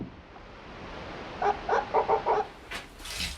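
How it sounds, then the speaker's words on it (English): Short clucking bird calls come from inside an abandoned guard station along Nevada's Basin and Range trail, a quick run of five or six notes over steady outdoor background noise, then a few fainter calls. "There's like a bird or something nesting in there."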